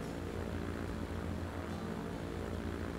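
A propeller airplane takes off for the first time in the video game Transport Fever 2, giving a steady, even engine drone that holds at moderate loudness throughout with no talking.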